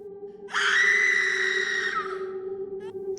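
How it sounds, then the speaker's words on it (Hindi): A witch's shrill, sustained scream bursts out loud and close in a horror story, holding steady for about a second and a half before trailing off, with no talking over it. "चुड़ैल चीखी, एक ऐसी चीख जिसने सारे जंगल को हिला दिया"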